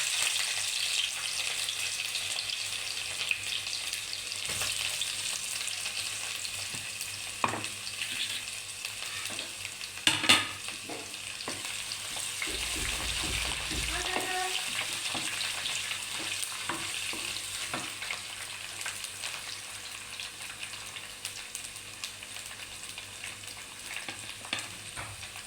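Garlic frying in hot oil for mango pickle, a continuous close sizzle with occasional stirring scrapes and light pops, steady throughout with no talking.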